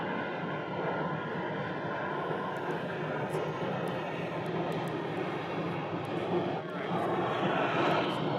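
A departing airliner roars steadily at Phoenix Sky Harbor Airport, a broad, continuous engine rumble that swells slightly toward the end, with no voices over it.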